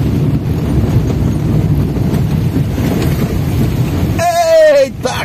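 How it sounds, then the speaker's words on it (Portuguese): Dense, steady roar of heavy rain in the rural Cariri region of Brazil, with a rumbling low wash throughout, ending with a brief voice cutting in. "muita chuva, pessoal, muita chuva mesmo!"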